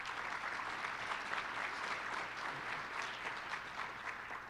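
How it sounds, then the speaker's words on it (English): Conference audience at a rural economics event giving a sustained round of applause, a full, even wash of many hands clapping throughout with no break. "Let's give them another round of applause"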